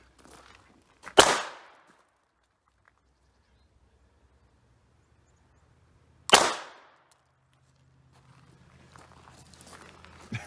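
Two sharp, loud gunshots from a Hi-Point CF380 pistol at an outdoor range, spaced about five seconds apart, each with a short decaying echo. Faint background noise rises toward the end.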